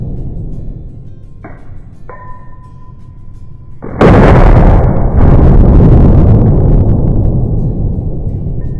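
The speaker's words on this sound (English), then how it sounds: "So I got the GLOCK 22 Gen 4 with the string light on it. I'm about to shoot it in slow motion for you and show y'all." A Glock 22 Gen 4 pistol fitted with a light fires once at an outdoor range, a sudden loud blast about halfway through that hangs on as a dense, roaring boom over a steady background hum.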